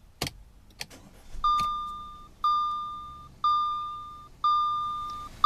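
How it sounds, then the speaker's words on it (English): A car key is pushed into the ignition with a few sharp clicks. A steady chime then beeps four or five times at an even pace, close and fairly quiet, while the steering unlocks and the engine is started. "push the key all the way in to start the vehicle"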